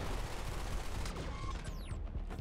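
Gunfire in the video game Black Future 88 crackles as a steady stream of rapid shots, moderately loud and continuous, with a few whistling zips of projectiles over it and no talking.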